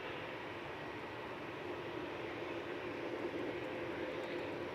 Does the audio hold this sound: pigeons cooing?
no